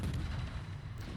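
Incoming naval shells in World of Warships, near a Chumphon Tier 7 Pan Asian light cruiser: a brief, dense low rumble of distant shellfire and splashes, steady and moderately loud for about a second.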